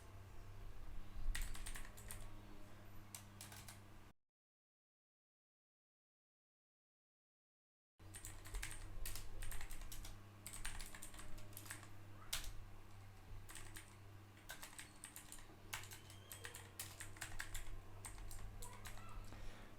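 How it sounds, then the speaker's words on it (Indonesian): Computer keyboard typing in bursts of close, crisp keystrokes during router configuration at a command line, with a short silent gap partway through and a steady low hum underneath. "Kemudian ketikkan enable."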